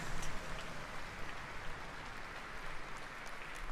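Steady applause from a large crowd fills the clip, a dense wash of clapping heard from a distance without pause.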